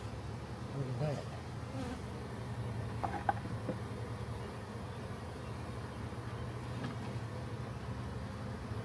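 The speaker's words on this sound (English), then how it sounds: "Get that damn bee." A honey bee swarm gives off a faint, steady buzz, with a few louder passes of individual bees flying near.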